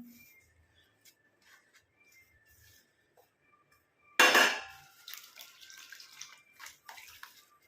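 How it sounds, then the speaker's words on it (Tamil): Water splashes and swishes as hibiscus flowers are rinsed by hand, followed by intermittent light clinks and trickles, fairly close with no talking. "இந்த செம்பருத்தி பூவை நல்லா வாஷ் பண்ணிட்டு நம்ம எடுத்துக்கலாம்"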